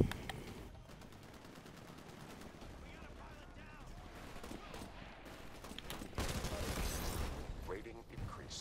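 Rapid bursts of G2A rifle fire rattle through a Titanfall match, crisp repeated shots over a busy battle din, with talk in between and a louder stretch near the end.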